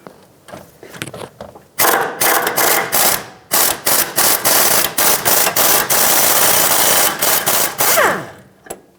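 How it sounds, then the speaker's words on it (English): A ratchet on an 18mm socket loosens a front sway bar link nut on a 2013-2020 Nissan Pathfinder: close, loud rapid clicking in about a dozen bursts with brief pauses, after some lighter handling knocks at the start. "then I'll do an 18mm socket on this, and hopefully it'll break free and come off"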